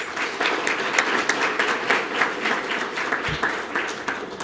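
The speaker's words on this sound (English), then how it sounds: "So give her a round of applause, please." A crowd applauds at the Sarasota Police Department semi-annual awards ceremony in September 2019. The close, loud round of clapping holds steady and dense throughout.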